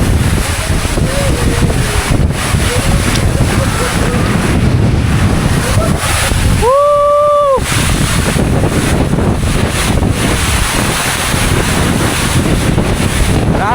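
Loud, steady rush of water falling and splashing at Tumalog Waterfall in Oslob, Philippines, with wind buffeting the microphone and a short tonal beep in the middle.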